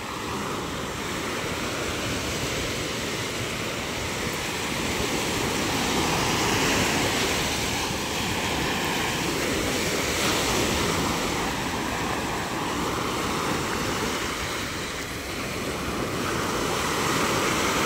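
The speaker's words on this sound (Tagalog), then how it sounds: "May alon tayo ngayon" Continuous roar of ocean surf with steady wind noise, waves washing in without pause and no voices.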